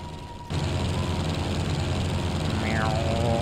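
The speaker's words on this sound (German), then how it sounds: "Dann nehme ich mal Flugzeug, dafür sind die Dinger ja da." A propeller plane engine in the video game Lego Indiana Jones 2 starts abruptly and settles into a steady, loud droning hum with a brief falling whine partway through, and no voices.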